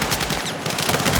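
Gunfire in the Battlefield 6 night raid mission: a dense, continuous wash of loud shots and rattling fire filling the whole moment, with no clear gaps between reports.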